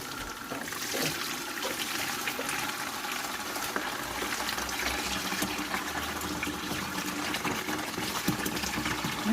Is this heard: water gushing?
yes